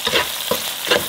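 Green chili and scallions being stir-fried for ayam kremes, a loud steady sizzle with scraping stirs rising in bursts, close and alone with no talk.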